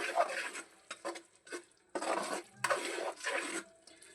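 Gongura chicken is stirred in the pan right after coriander goes in, producing a series of separate scraping, squelching strokes in short bursts with brief pauses between them.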